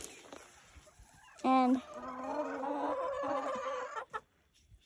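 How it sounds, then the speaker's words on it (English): On a small homestead farm, a hen lets out one sharp squawk and then a run of nasal clucks and grumbles, close and clear, while a person speaks briefly. "So these are our chickens"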